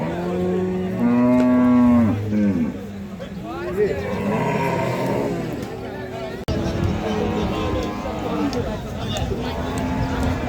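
Cattle, including Australian breed cows, low loudly and repeatedly at Kalampur cattle market amid crowd chatter and general hubbub, with long drawn-out moos from several animals nearby.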